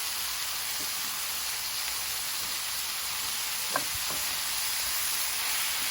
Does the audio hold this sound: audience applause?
no